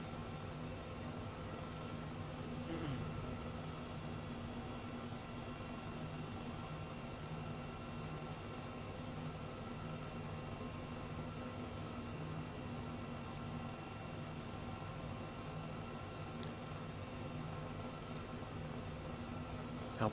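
Steady drone of an Airbus H135 helicopter in flight in Microsoft Flight Simulator 2020, a constant faint turbine whine and rotor hum holding evenly for twenty seconds with no talk.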